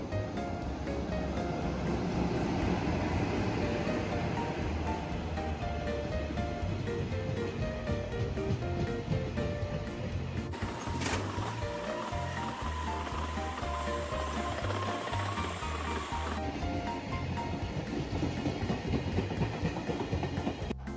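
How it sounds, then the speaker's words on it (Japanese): A freight train rumbles steadily past Shin-Kawasaki station near a freight yard for the whole stretch, with a rhythmic clatter of wheels and a brief high screech partway through. "撮影中に何度も貨物列車と遭遇いたしました"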